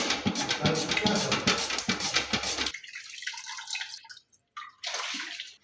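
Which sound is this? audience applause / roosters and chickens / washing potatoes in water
washing potatoes in water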